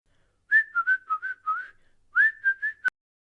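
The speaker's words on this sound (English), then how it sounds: "Whistle. A high-pitched sound made by blowing air." A person whistles a lively, high tune in two quick phrases of short, clear notes separated by a brief pause, ending with a sharp click. The sound is close and plain, with no talking over it.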